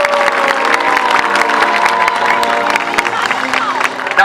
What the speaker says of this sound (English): let's give both Makani and Orkid a great big round of applause